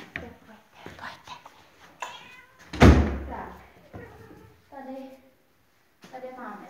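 Adult cats in a shelter room meow several times, interspersed with a person talking and a sharp thump partway through.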